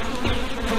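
Honeybees buzzing in an open hive being expanded, a dense close droning hum of many bees, steady and continuous with no talking.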